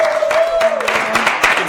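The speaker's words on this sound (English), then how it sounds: "A round of applause for Veronica on that first round" Brief audience applause at a campus dating game show, scattered clapping mixed with cheering voices and a sustained tone in the background.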